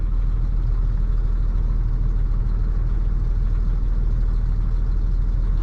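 A 1988 Dodge Ram B250 Safari van idles with a steady, loud low engine rumble and broadband drone, heard close from inside the cabin with no talking.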